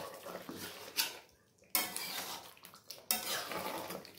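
Chicken being sautéed and stirred in a pot over low heat, heard as a few clattering scrapes and knocks of a utensil against the pot between quieter gaps, close and moderately loud with no talking.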